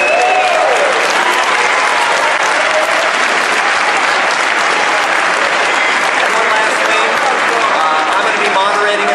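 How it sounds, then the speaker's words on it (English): Loud, sustained applause from a large crowd at a political candidates' debate in Nevada, dense clapping with scattered voices and cheers mixed in. "Can we have a round of applause for both candidates?"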